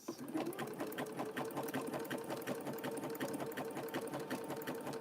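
A sewing machine stitches a rope coaster circle, running steadily and close with a rapid, even mechanical rhythm throughout, no voices over it.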